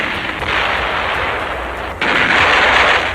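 Naval and land artillery fire heard in a World War 2 newsreel from the Iwo Jima battle, a dense, loud, continuous roar of bombardment with a sharp jump in intensity partway through.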